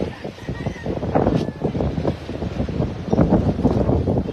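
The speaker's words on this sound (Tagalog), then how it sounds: "kusog ang hangin" Strong gusting wind in Oroquieta City buffets the microphone with heavy, fluttering low rumble that rises and falls continuously, loud and close, with no clear voices.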